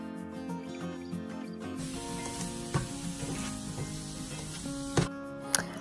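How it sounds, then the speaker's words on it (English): Mushrooms sauté in a pan with salt and pepper for beef stroganoff, giving a soft steady sizzle broken by a few sharp stirring clacks, under a faint tonal background. "I'm going to go ahead and add my mushrooms and get these sauteed"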